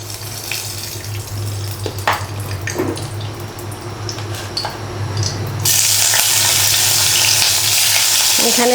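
Prawns frying in a pan in a home kitchen, a loud constant sizzle with a few utensil clinks, then a running tap gushes over it in the final seconds.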